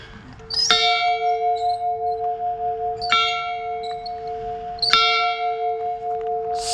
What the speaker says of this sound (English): And here's the old chow bell. Gotta let people know it's time to eat.